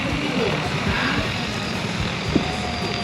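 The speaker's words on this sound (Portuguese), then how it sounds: "As hélices dele é igual de avião, né? É gigante. É um T20 da DJI." A large-propeller DJI T20 agricultural drone flies over an airstrip at a drone expo, giving a steady, loud rotor drone throughout, with people talking over it.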